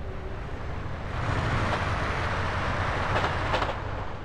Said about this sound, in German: Oh, Zug.